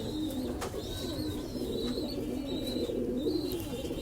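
Pigeons in a domestic loft, including Kamagar, Chinese TD and golden breeds, give a steady low cooing that runs throughout, with faint high chirps from other birds in the background.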